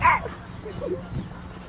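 A short high yip from a small puppy opens, followed by faint whimpering sounds close by.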